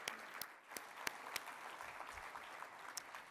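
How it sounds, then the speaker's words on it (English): Quiet, distant applause from an audience at an insurance industry event, a soft continuous patter of clapping with a few sharper, closer claps standing out. "Let's give a round of applause for our future talent sponsor and students."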